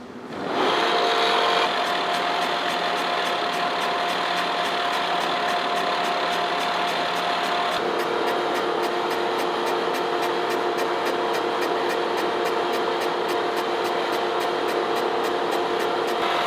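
A manual boring machine cuts through a 100-year-old steam cylinder at 12 thou per rev feed, giving a loud, steady mechanical whir with a rapid regular ticking; the pitch shifts slightly midway as it runs continuously.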